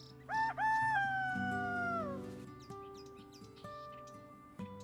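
A rooster crows in one long, rising-then-falling cock-a-doodle-doo near the start, loud and close, followed by quieter farmyard sounds and soft background tones.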